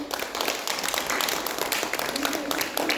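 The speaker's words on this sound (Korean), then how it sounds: "우리 다시 큰 박수." Big applause rises from a church congregation during an anniversary service, a dense, steady wash of clapping that fills the room for the full stretch.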